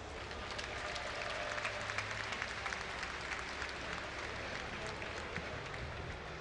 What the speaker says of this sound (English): Give a cheer for Empire Koss